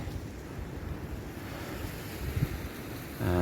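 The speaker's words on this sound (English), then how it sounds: "I'm back on the beach now. This is Mandram Beach." Waves washing onto Mandrem Beach in Goa, a steady rushing surf mixed with wind buffeting the microphone, growing slightly louder near the end.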